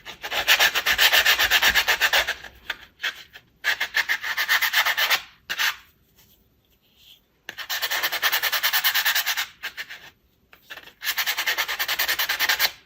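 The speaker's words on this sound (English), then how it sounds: "so now I am going to sand it down a little bit to make it smooth" Sandpaper rubs back and forth over a glitter-coated acrylic keychain blank in several bursts of steady scratchy strokes, separated by short pauses, close and fairly loud.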